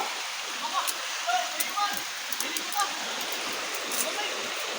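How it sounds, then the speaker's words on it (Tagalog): Water under strong pressure gushes from a hole in a pipe outdoors, a constant splashing roar with small droplet spatters on top, fairly close. "Yan, may butas po yung tubo. Pagkalakas po ng pressure."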